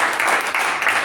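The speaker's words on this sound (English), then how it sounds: "let's give him a special round of applause again" Dense, steady applause for a speaker at a Toastmasters meeting, a brief burst of many hands clapping together at close range without any talk over it.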